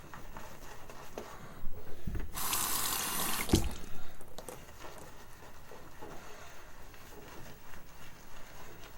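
Water running from a tap while working up a lather of old-school shaving soap, a steady splashing stream with a louder gush in the middle, then quieter flow and small clinks.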